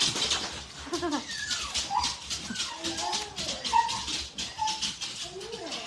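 Excited indoor dogs bark, yip and whimper continuously at close range, greeting someone coming in, with a bird chirping faintly in the background.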